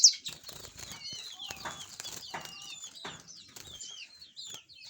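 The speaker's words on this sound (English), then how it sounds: "these are amazing canaries" Healthy domestic canaries flutter and hop about a cage holding millet and corn feeders, giving repeated soft wing flaps and rustles mixed with short chirps, fairly close and moderate in level.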